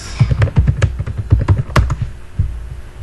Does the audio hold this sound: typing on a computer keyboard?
yes